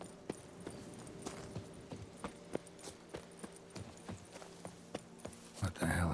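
Roach the horse walks in The Witcher 3, a steady clip-clop of hooves that thud one by one at an even pace, with a voice talking over the steps.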